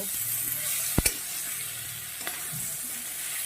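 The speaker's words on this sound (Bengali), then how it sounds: "ওটাকে আমি দিয়ে দেব এবার ভালো করে সুন্দর করে আমি ভেজে নেব এটা একটু ঢাকা দিয়ে দিয়ে ভেজে নেব" Raw banana pieces, peel still on, fry in a pan with a steady, close hiss of hot oil, broken by two sharp clinks near the start and a fainter one later.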